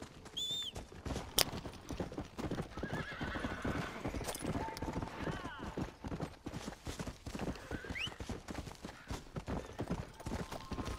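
Continuous galloping hoofbeats in the video game Red Dead Redemption pound along at a quick, even rhythm, with a horse neighing briefly partway through.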